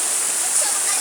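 Bayog Waterfalls pours in a steady, dense hiss of rushing water, broad and constant throughout with no breaks.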